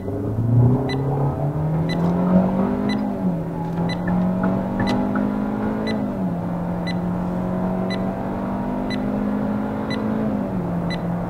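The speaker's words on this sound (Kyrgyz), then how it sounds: "Эми азыр унаанын ылдамдыгын текшерип көрөбүз. 0-дөн 100гө чейин канча секундта ылдамданат." A Hyundai Avante/Elantra with a 1.6-litre petrol engine accelerates hard from a standstill in sport mode, engine droning and rising in pitch through gear shifts, heard steadily from inside the car.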